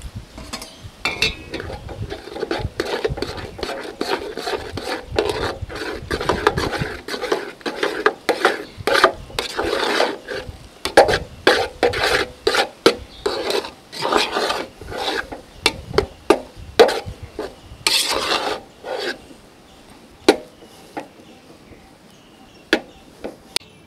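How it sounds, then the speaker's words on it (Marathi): Poha flour is stirred and mashed into hot water in a pot with a spoon, giving a long series of close, irregular scraping and rasping strokes against the metal, with no voices. "हे जे पीठ आहे मगाशी मोजून ठेवलेलं ते आपण ह्यामध्ये घालूया आणि लगेचच हे मिक्स करून घ्यायचं आहे"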